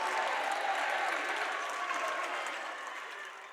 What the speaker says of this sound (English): Big block by the Tigers. The crowd goes wild.